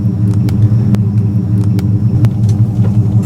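A 1976 Pontiac Catalina Safari clamshell wagon with a 455 V8 cruising, a steady low engine rumble with road noise and occasional sharp interior clicks and knocks, no talking.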